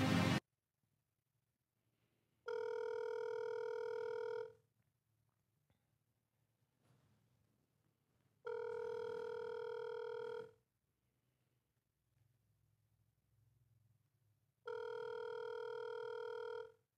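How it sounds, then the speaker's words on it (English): Three long telephone ringback tones, each about two seconds with roughly four-second gaps of near silence between them, heard on a call placed after dialing a number; the tones are clear and steady, with faint low hum between rings. "Let me make sure I dialed this number right because I think I might have called the wrong person"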